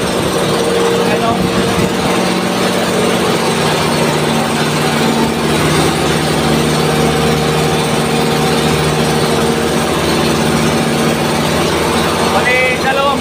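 Twin boat engines on an island-hopping trip to Sidanao Island drone steadily and loudly throughout, a constant mechanical hum with no pauses, while people talk over the noise.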